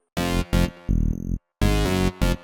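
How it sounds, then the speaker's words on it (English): Loud, rhythmic synth stabs and chords from an indie dance house track, several layers playing together in short bursts separated by brief silent gaps. No one talks. "I will first play you what the synths sound like together."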